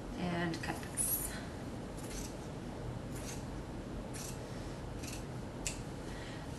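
Scissors snip through quilt fabric in a few quiet, scattered cuts, faint and close, under low room noise.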